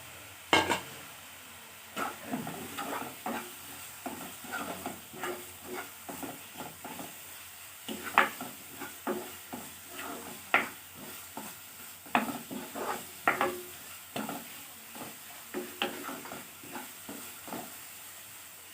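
Sliced onions and spices fry in a pan for an Assamese rohu fish curry with sesame. A soft, constant sizzle runs beneath frequent close stirring scrapes and taps that keep a busy, uneven rhythm throughout.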